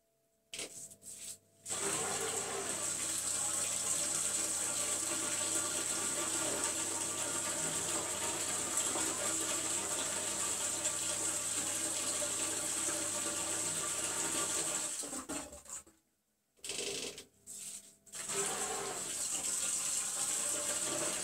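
A Zanussi Lindo300 washing machine drains water during its rinse cycle, a steady loud rushing gush that runs continuously and cuts off briefly near the end before resuming.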